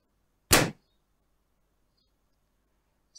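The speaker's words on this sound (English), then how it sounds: "the hat bursts and makes a pop sound" A single short, sharp pop of a bursting hat, loud and alone against near silence.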